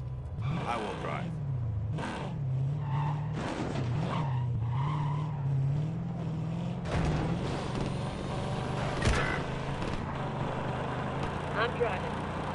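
A car drives and skids in a PS4 video game, with engine drone running steadily throughout and repeated tire squeals and skid bursts. Voices talk over it at times.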